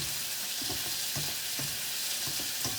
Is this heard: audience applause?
no